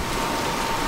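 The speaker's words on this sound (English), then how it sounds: "Now the rain really picking up again." Heavy rain pours steadily over a baseball park during a game, a dense, even hiss of drops filling the short stretch close and loud, with no voices or other sounds cutting through.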